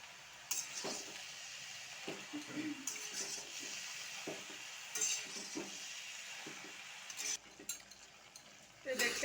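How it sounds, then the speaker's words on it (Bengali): Cabbage cooking with fish head in a pan being stirred, soft scraping and shuffling over a faint sizzle, quiet and close, with irregular clinks from the utensil. "এবারে এটা ভালো করে একটু মিশিয়ে ঢাকা দিয়ে দেব।"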